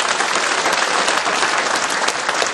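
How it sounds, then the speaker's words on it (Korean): Dense, loud applause from a crowd at a political party rally, continuous clapping filling the whole moment with no pause. "뜨거운 박수를 보내드립니다."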